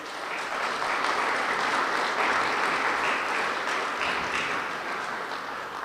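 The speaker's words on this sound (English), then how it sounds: "Let's give a round of applause to city council members" Sustained applause from an audience at a city State of the City address in Jackson, Michigan, honoring council members and clergy, a dense steady clapping that holds loud and even throughout with no talk.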